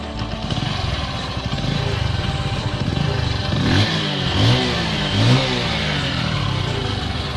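A Bajaj Pulsar motorcycle with its stock exhaust runs steadily nearby, its engine note rising in a few short revs over a constant rumbling idle.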